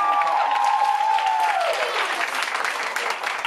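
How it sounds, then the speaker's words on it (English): Audience applause at a motivational talk, dense steady clapping filling the room throughout, with a brief voice trailing off at the start. "Give yourselves a round of applause"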